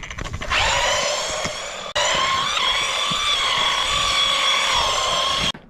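Small fake mini Arrma Kraton RC truck with tight gears, its electric motor whining at a high, steady pitch in two sustained runs separated by a brief break, close and fairly loud.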